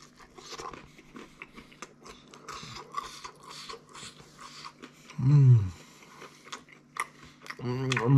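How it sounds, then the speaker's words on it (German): Close biting and chewing on a soft, fluffy-crusted tuna pizza, with crunchy mouth noises scattered under low murmuring and a couple of brief louder vocal bursts near the end. "Wir beißen mal kurz hinten rein."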